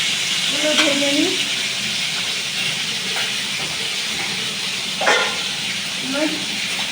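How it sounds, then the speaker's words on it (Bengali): Prawns sizzle in hot oil with a steady bright hiss and occasional crackling pops, close and continuous while a person talks over it. "তেল গরম হয়ে গেছে, চিংড়ি মাছগুলো ভেজে নিই।"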